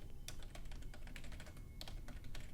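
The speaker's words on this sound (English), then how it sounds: "Sorry if you can hear my keyboard." Fingers tap out quick, irregular bursts of keystrokes on a computer keyboard, close and crisp over a quiet room, with no one speaking.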